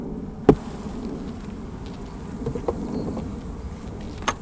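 Honey bees festooning inside a hive feeder that held sugar blocks give off a soft, continuous buzzing hum, close and low, with a few sharp knocks and clicks scattered through; no voices.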